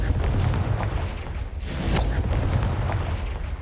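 A Confringo fire spell detonates in the Hogwarts Legacy video game, a single deep booming blast about midway through, set against a steady low rumble of game background sound, with no talking.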